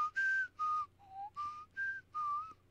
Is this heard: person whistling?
yes